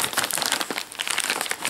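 Plastic wrapping of an Estonian army NATO ration pack being torn and pulled open, a close, continuous run of crinkling and crackling rustles lasting under two seconds with no talk.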